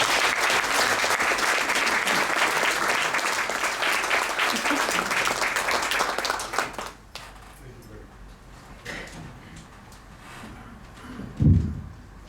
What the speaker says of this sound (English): a big round of applause for our visiting scholar tonight, Professor Xenophon